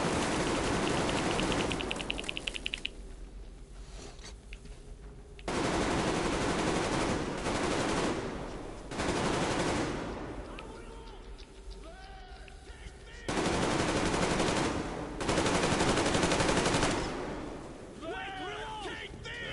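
Rapid automatic gunfire rattles in the Metro Exodus shooter game, coming in long, loud, dense bursts separated by short lulls, with voices faintly mixed in.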